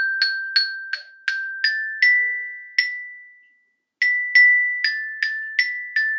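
Children's song Mariposa y Gusanito picked out as a melody of bright struck metallic notes, like a glockenspiel, in a steady rhythm with a short pause midway.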